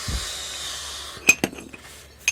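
Two thick metal washers and nuts with spring lock washers clink together as they are handled in a workshop, giving a few sharp, close metallic taps after a quiet stretch.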